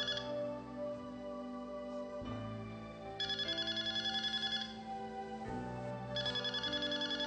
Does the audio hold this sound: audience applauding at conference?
no